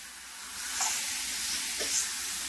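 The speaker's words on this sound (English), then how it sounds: "You just want it to sizzle and sear." Steak searing in a hot cast iron pan, a steady loud sizzle with crackling spatter and a couple of brief sharper pops as the meat fries, with no talking.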